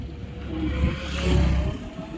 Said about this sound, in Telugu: ఇదిగో ఒక్క కార్ వెళ్తుంది